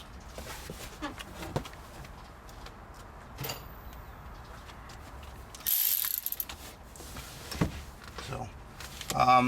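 A factory bolt is re-tightened on a Mini Cooper harness bar with a hand ratchet, giving bursts of quick clicking pawl strokes and metallic clanks, close up with pauses and a short loud rattle in between.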